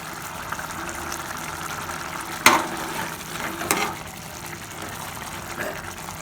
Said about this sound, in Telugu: ఇప్పుడు దీంట్లో పాలు పోసుకోవాలి